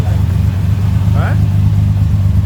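A 1938 SS Jaguar 3½ drophead's engine runs under throttle with a steady, loud, low drone throughout, and a brief voice-like sound rises over it midway.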